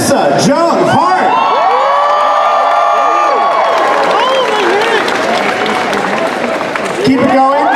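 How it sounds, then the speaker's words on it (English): A comic convention crowd greets a Sabrina the Teenage Witch reunion panel with loud whoops, high-pitched screams and cheering over sustained applause, the shouting swelling at the start, easing into dense clapping, then flaring again near the end. "please give your biggest round of applause you can possibly imagine"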